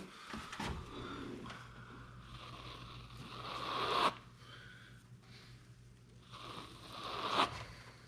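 A Dragon Blade knockdown blade is dragged across drywall texture over an orange-peel base, giving two long, soft scraping sweeps that swell and end with a sharp scrape, with a steady low hum beneath.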